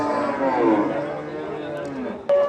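Cattle low and moo at a busy Nilphamari livestock market in Bangladesh during Eid sacrifice trading, with bulls and oxen for sale; a drawn-out moo sounds over continuous crowd chatter, and a short sharp noise comes near the end.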